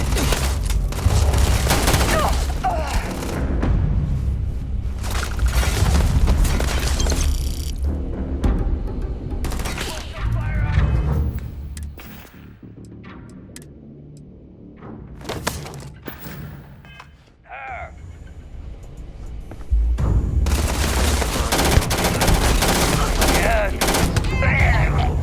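Gunfire in Starfield, with dense rapid bursts of shots in heavy stretches, a quieter lull in the middle, then loud firing again, with shouted voices mixed in.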